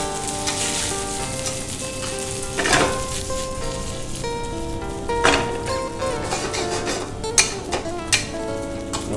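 Spaghetti frying in a hot pan with salt and black pepper, giving a steady close sizzle with a few louder crackles and stirring scrapes, no talking.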